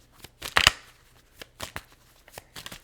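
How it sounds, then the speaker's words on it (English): Tarot cards being shuffled by hand in several quick riffling bursts with soft flicks and taps between them, close and fairly quiet, with no talking. "Got to wait for the right shuffle."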